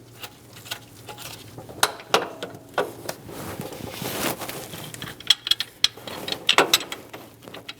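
Bolts being started by hand on a power steering pump on a 4.8L V8 Chevrolet Express 2500, with scattered metallic clicks, light ratcheting and tool taps, close and irregular.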